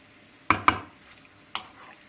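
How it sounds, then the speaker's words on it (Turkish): Spoon stirring chunks of meat and vegetables for çoban kavurma in a pot, two quick clacks against the metal followed by a third after a pause, close and crisp over a quiet background. "Şöyle bir karıştıralım."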